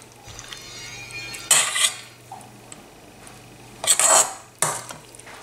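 A metal spoon scrapes and clinks against a dish while shrimp stuffing is pushed into a squid, with a few distinct loud clatters amid quieter scraping, close and alone.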